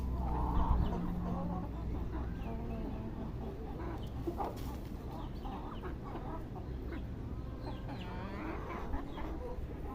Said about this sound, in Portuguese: Essas galinhas maior.